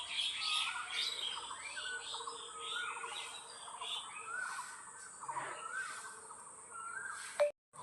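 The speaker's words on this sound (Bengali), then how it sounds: "বসে পাখিদের আওয়াজ শুনছিলাম।" Morning birdsong near a doorway, several birds chirping and calling in overlapping, repeated phrases over a faint insect hum, moderately close, ending with a brief sharp knock.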